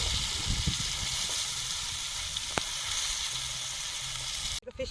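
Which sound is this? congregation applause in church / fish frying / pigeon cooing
fish frying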